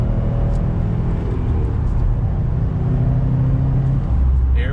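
A 2020 Subaru WRX STI with all-wheel drive powers out of a turn, its engine giving a loud, steady low rumble heard from inside the car.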